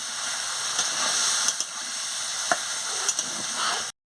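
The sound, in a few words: stirring ridge gourd curry with mustard paste in pan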